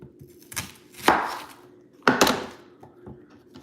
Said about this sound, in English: we're gonna chop up our onion